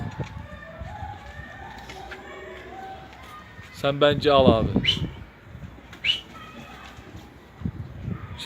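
Pigeons coo and flutter nearby in a coop, with a brief burst of wingbeats and bird calls in the middle, while someone talks quietly over them.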